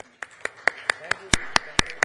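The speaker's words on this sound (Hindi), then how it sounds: "इनके लिए तालियां बजाइए एक बार आप" An audience claps for two Himachali folk singers, about nine sharp, evenly spaced claps in a steady rhythm, close and distinct with no talk over them.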